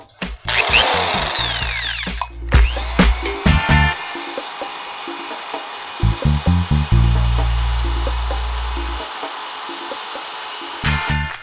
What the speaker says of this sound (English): So now I'm going to go back to the drill. I'm going to blend all this in.